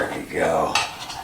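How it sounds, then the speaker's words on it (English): A knife slicing through cooked honey sriracha pork filet, clinking against a plate or pan in a home kitchen, a brief, close scrape with a sharp metallic tick. "Almost got it cut through."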